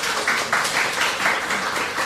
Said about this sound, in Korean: 우리 수고하는 교사들을 위해서도 한번 박수하겠습니다.